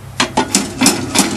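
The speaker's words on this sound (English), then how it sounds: "You simply take a hammer or any type of tool, such as this, tap on the slides to release them" Metal tapping on the slides of a Talon lawnmower blade to free them from their ramps, five sharp knocks spaced unevenly over about a second, close and fairly loud with no talk.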